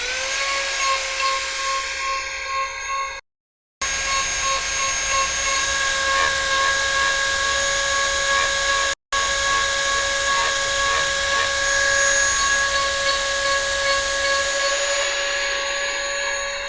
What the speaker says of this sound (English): Putting some little holes in with this little burr.